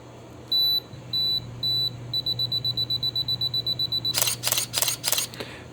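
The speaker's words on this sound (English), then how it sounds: "it's a self-timer that then leads into 4 continuous shots" A Canon EOS Rebel T1i's self-timer beeps, slowly at first, then in rapid repeated pips, followed by a quick burst of four shutter clicks in continuous shooting, close and clear against a faint hum.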